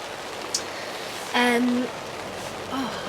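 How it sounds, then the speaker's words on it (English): Heavy rain falls steadily in a dense, hissing wash that runs through the whole stretch, with a brief humming voice sound rising over it partway through. "The rain has been so heavy"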